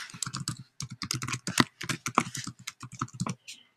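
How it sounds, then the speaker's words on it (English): Fingers typing an email address on a computer keyboard, a quick uneven run of crisp key clicks, close and clear with no talking. "you simply type here your email address"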